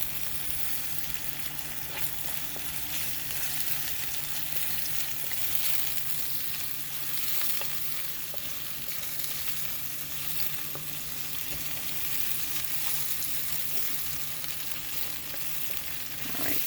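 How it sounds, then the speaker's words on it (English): Steady sizzling of onions frying in a pan for a Sri Lankan lamb curry, a continuous crackling hiss at moderate volume with no voices. "When the onion starts cooking,"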